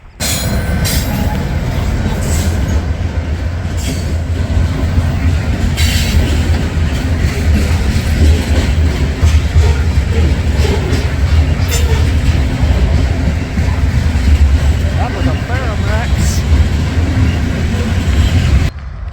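A freight train led by Norfolk Southern and Ferromex locomotives rolls past close by, a loud continuous rumble of wheels and cars with intermittent squeals and clatter throughout.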